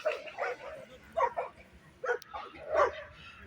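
Dogs bark in short bursts inside a fenced enclosure in a park on a winter evening, several yips and barks spaced across the moment at moderate distance, with faint voices in the background.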